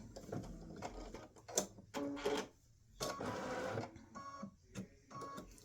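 An embroidery machine stitches a bandaid applique design in short whirring, clattering bursts separated by brief pauses as it moves back and forth, fairly quiet, with no speech.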